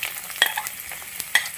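Long strips of sliced ginger dropped into a hot pan for a Kerala-style vegetable stew, a soft sizzle with a few sharp crackles and a light stir, close and brief, no talking.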